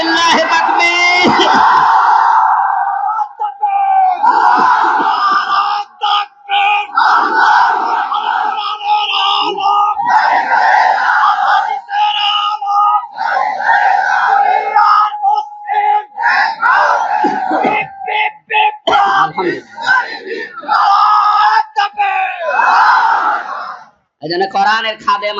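A large crowd roars a chant in unison, loud and sustained, with repeated swells of massed shouting answering a call at a Bengali religious gathering.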